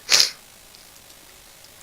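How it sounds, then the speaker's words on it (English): One sharp, loud sneeze bursts out close to the microphone, followed by quiet room tone and no talking. "Oh my god, I've got sneezes."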